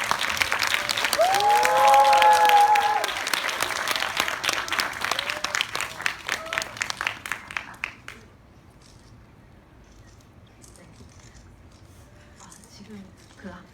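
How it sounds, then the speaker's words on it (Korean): Cinema audience applauding to welcome director Park Chan-wook at a screening Q&A for The Handmaiden, lively clapping with a few cheers that tapers off after about eight seconds into near quiet with faint murmurs. "환영의 박수 부탁드릴게요"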